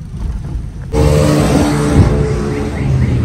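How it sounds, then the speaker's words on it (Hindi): A Mazda RX8 rotary engine suddenly bursts into loud, close revving, with rough crackling exhaust pops mixed into the throbbing roar. "बगैर ट्यून के पटाखे मारती है,"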